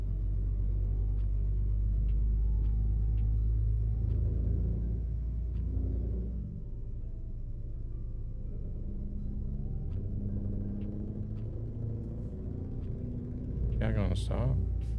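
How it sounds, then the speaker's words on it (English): Heavy truck engine in Euro Truck Simulator 2 rumbles with a sustained low drone and a higher revving tone, another vehicle's engine winding up near the end, under steady game noise. "that high revving that you guys are hearing"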